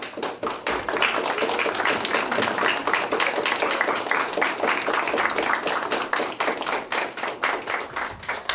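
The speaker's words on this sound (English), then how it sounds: "we'd like to give you a round of applause" Sustained applause from a standing audience at a transfer fellowship inauguration ceremony, many hands clapping in a dense, steady patter that continues for several seconds.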